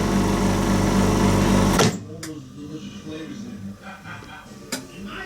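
A chamber vacuum sealer packing meat runs with a loud, steady mechanical hum that cuts off abruptly, followed by quieter clicks and a faint hiss as the chamber settles.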